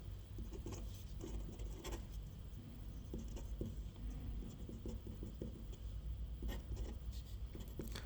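Pen or pencil scratches across paper while a formula is written out, a quiet, close, irregular scratching with small taps and rubs over a low room hum.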